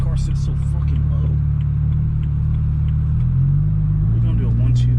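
Low, throbbing engine rumble from a lowered BMW E92 coupe while driving, steady and close, with a slight rise in pitch near the end and brief speech-like sounds layered faintly on top.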